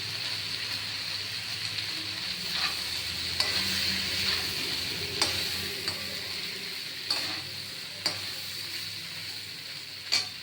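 Flattened rice (chira) stirred and frying in a pan for vegetable pulao, giving a steady sizzle with scraping stir strokes and occasional sharper clicks of a spatula throughout.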